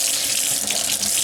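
Moderately hot water runs steadily from a faucet into a sink, a loud, continuous hiss with no speech.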